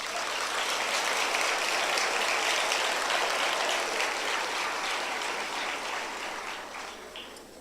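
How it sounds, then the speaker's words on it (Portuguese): A church congregation applauds in a dense, steady wash of clapping that holds loud and then tapers slightly toward the end, with no speech over it. "Só aqueles que creem aplaudem o Senhor Jesus."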